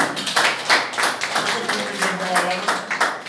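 An audience breaks into applause, a dense, continuous patter of clapping with voices mixed in throughout.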